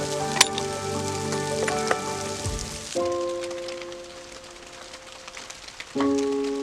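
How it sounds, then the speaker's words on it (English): Rain falling on a cold day at an outdoor rifle range, a dense steady patter of drops on surfaces, mixed with droning engine-like hums that stop and restart, and no voices. "it's raining"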